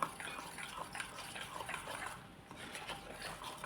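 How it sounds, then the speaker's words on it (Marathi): Water poured a little at a time into coarse bhaji flour batter gives a soft, steady splashing that stays close and continuous for a few seconds, with no talk. "थोडं थोडं करून पाणी घालूया"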